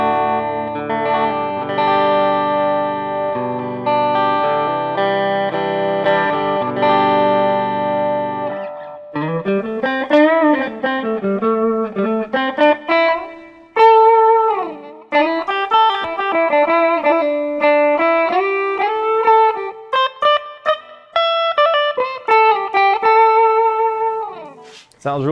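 A Harley Benton electric guitar on its standard magnetic pickups, middle switch position, plays through the clean channel of a Catalyst 100 amp: sustained chords, then picked single notes and bent melodic lines, loud and close, with gaps between phrases.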